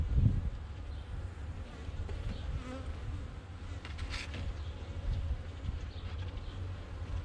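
Honey bees swarm around an opened hive with heavily propolized frames, a dense continuous buzz close by with faint shifts in intensity and a few nearby fly-bys.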